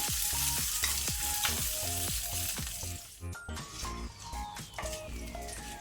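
Urad dal fries in hot oil in a pan over a low-to-medium flame, with a steady, dense crackling sizzle and scattered pops close by, while a utensil stirs and scrapes now and then.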